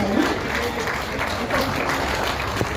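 Steady applause washes through a large hall at a national convention in Kolkata, a dense, even crowd clapping with a faint murmur of voices underneath.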